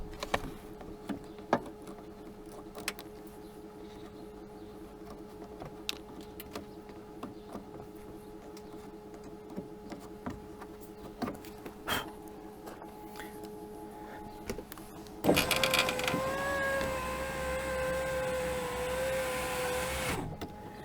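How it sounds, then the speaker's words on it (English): A Chevrolet Silverado power window runs up and down after a regulator replacement: a steady whirring motor hum starts abruptly and holds for several seconds, close and clear, after quieter clicking and handling noises. "just operate the window so you can make sure that it goes all the way up and down"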